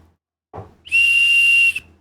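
A light tap, then a single shrill whistle blast held for about a second, loud and close.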